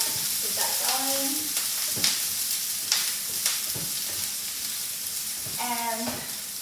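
Rice sausage sizzles loudly in a hot pan while a spatula scrapes and stirs it, several sharp scraping strokes over a steady frying hiss with a brief voice in the background.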